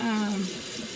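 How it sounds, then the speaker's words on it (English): Tap water runs into a sink as Brussels sprouts are rinsed, a close, steady splashing stream with a brief tonal hum at the start. "So let me wash these real quick."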